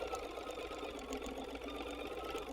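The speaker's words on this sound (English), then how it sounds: "I'm going to start sewing and just leave it out there for now." A sewing machine stitches elastic into a fabric face mask, running in a steady, even whir across the whole stretch at close range, with no voices.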